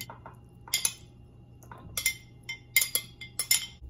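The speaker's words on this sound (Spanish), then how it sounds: "voy a revolver el camarón con las verduras" A utensil mixes shrimp with tomato, onion and cucumber in a bowl for ceviche, giving a series of sharp clinks and scrapes in irregular bursts, close and clear against a quiet background.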